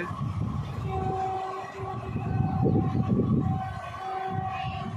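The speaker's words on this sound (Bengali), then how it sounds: "দেখছো ট্রেনটা বেরিয়ে গেলে কত গতিতে।" An express train rushes past at speed close by, with a loud continuous roar of wheels and carriages, a steady horn-like tone held throughout, and a surge of rumbling mid-way as the cars go by.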